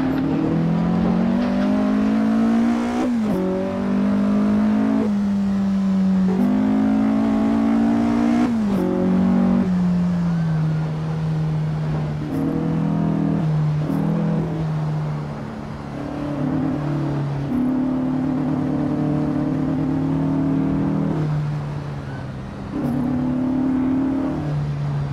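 Racing car engine in the Assetto Corsa sim on the Fonteny track, loud and continuous, revving up through gears with repeated shifts, pitch climbing and dropping as the car brakes and accelerates through corners.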